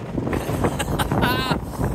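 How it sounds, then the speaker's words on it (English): Strong wind buffeting the microphone in rough gusts, loud and close, in Iowa, with a brief voice-like squeal partway through. "The winds, they're gusting."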